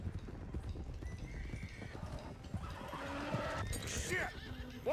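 Horses in Red Dead Redemption II, one a loose stallion, with hooves clip-clopping along and a loud neigh and whinny rising near the end, over a busy background of game ambience.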